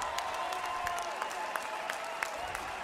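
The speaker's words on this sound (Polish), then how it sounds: "Brawa na trybunach nie tylko od kibiców bułgarskich i litewskich, ale od całych trybun" Spectators in the stands at the European Karate Championship 2022 final applaud steadily, a fairly distant, even patter of many hands filling the hall, with a commentator's voice over it.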